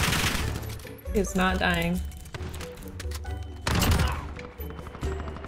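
Rapid gunfire in Call of Duty Modern Warfare rattles in bursts beneath near constant talk from players.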